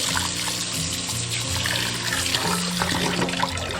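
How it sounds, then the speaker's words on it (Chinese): Steady tap water running over beef brisket being rinsed in a kitchen, a loud continuous splash and trickle with no talk. "把牛腩清洗一下"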